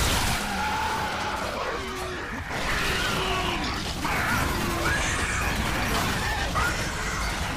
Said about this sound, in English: More burnouts!